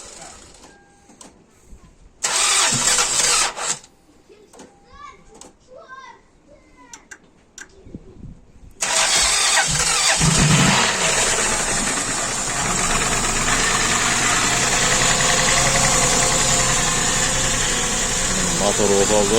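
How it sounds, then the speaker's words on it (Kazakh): An imported 3.0 L engine in a Toyota Camry turns over and catches on its first start, then idles loudly and steadily with a ticking clatter. Voices and scattered knocks come before it fires. "Мотор оталды"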